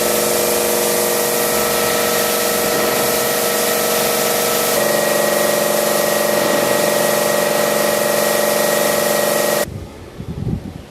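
A steam engine at a Martinique rum distillery, fired with sugarcane bagasse, gives off a loud steady hissing roar with mechanical hum for about ten seconds, then cuts to quieter rustling and knocks.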